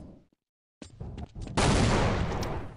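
Gunfire from Counter-Strike on the de_nuke map: after a near-silent gap, scattered single shots lead into a dense, sustained burst of spammed automatic fire from the roof, with no voices.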